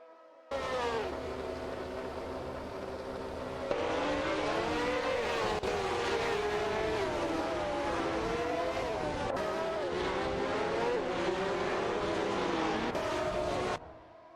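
Race cars overtaking on a circuit in an AI racing event, their engines a loud, continuous layered whine with pitch rising and falling as cars gain positions, sustained throughout without talk.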